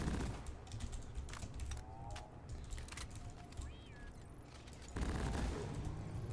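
Bursts of rapid shots from the LOK-1 gun in the Deep Rock Galactic video game, fired in volleys of eight, crackling fairly faintly with brief gaps between volleys.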